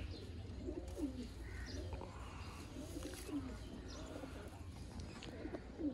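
Pure Sialkoti rooftop pigeons, males, females and young, coo repeatedly in soft, rolling phrases against a low, steady background hum.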